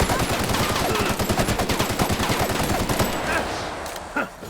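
Sustained rapid fire from a heavy weapon aimed at a robot in The Outer Worlds, a steady run of loud, closely spaced shots that carries for about three seconds, then tapers off with a faint clank near the end.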